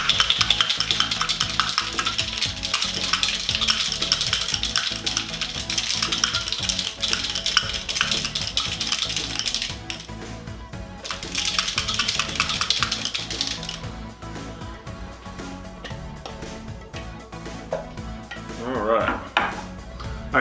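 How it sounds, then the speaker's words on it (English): An egg white dry-shaken with a couple of ice cubes in a cocktail shaker for a whiskey sour, a rapid rattling clatter that runs loud for several seconds, then pauses and resumes more faintly toward the end. "so we're just going to give this a good dry shake"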